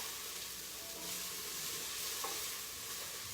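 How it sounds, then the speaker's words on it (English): Garlic cloves being stirred in a pot for chicken tortilla soup, a soft steady sizzle with faint scraping, quiet and continuous with no talk. "let's give that a stir"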